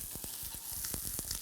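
Sirloin steak sizzling and spitting in a hot frying pan, a steady close crackle broken by sharp pops and bursts of spatter across the short span, with no voices.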